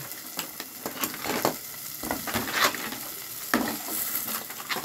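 Litob shellfish are tipped into a hot pan with lemongrass, giving steady sizzling frying broken by irregular clattering scrapes and knocks of shells being stirred, close and fairly loud.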